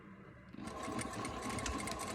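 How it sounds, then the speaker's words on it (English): A commercial sewing machine stitches a plastic mask, its steady motor whir and rapid needle clatter starting after a brief quiet moment and running continuously, close and fairly loud. "Now I want to stitch this part right here to this part."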